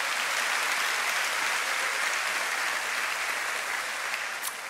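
A church congregation at the Brooklyn Tabernacle claps loudly and steadily together, a dense, sustained wash of applause filling the sanctuary with no break for the whole stretch.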